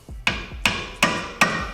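A hammer strikes a screwdriver four times in an even rhythm, sharp close metallic impacts, working a clip out of a rusty Honda brake caliper; no talking.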